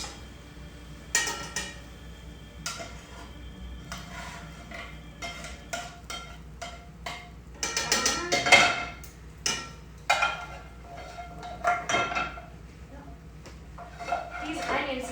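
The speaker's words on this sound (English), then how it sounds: "Go give that a good stir." A spoon scrapes and clinks against a pan of cooked-down peppers, onions and tomatoes for Roman-style chicken, giving irregular metallic knocks and scrapes close by, with a voice talking at times.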